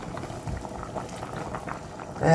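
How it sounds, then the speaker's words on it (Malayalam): Sardine curry with curry leaves simmering in a pot, a soft continuous bubbling with small pops, close and without talk, ending in a brief louder clatter. "കരിവേപ್പില ഇട്ട് കൊടുത്ത് മീൻ വെന്തിക്കുന്നത്"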